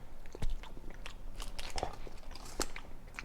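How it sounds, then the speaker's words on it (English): Someone chews a Stretch Island apricot fruit snack close up, with a run of soft, wet bites and mouth clicks and no talking. "Chewing the apricot."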